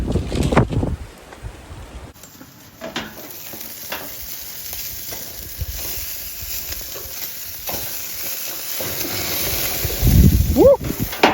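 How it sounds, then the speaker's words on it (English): Gusty wind buffets a lakeside campsite in Scotland, a steady broadband rush with loud close bursts at the start and end, while a cooking sizzle runs underneath. "I put the top up as a windbreak and then the wind just changed direction"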